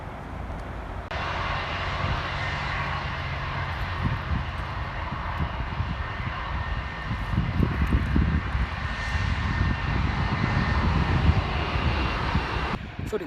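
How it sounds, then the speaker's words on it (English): An Airbus A380 airliner passing near the south runway at Heathrow Airport, a broad, loud engine roar that swells gradually and holds steady without speech. "there's an Airbus A380 going to Salt Lake City behind us"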